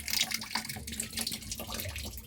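Clothes, a t-shirt among them, are rinsed by hand in a basin of water, with steady sloshing and splashing close by, continuous and fairly loud throughout.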